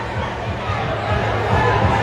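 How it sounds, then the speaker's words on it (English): Dense crowd noise fills a basketball gymnasium in Douglas, Arizona, during a women's college game between Cochise College and Eastern Arizona, a steady roar of voices that swells toward the end, with babble and chatter throughout. "I hope you can hear the crowd going crazy behind me"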